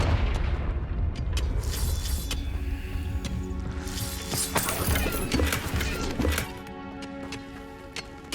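Confringo blasting curse in the Hogwarts Legacy video game: a burst of booming explosive impacts with crackling debris over several seconds, fading into quieter rumble near the end.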